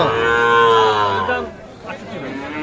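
Gir breed cattle mooing loudly and close at a livestock market, one long drawn-out moo that fades out, with crowd chatter and voices around.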